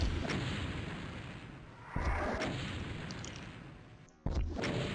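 Heavy gunfire booms out in DOOM while firing at Barons in a suburban map, with a sustained roaring blast followed by sharp renewed shots and lingering rumbling reverb.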